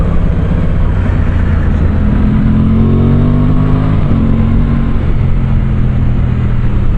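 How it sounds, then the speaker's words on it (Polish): An Aprilia Tuono 660 Factory motorcycle engine rumbles steadily at low revs, pulling away with a deep, throaty drone that stays loud and close throughout. "dźwięk na wolnych obrotach jest taki, o, jak ruszam"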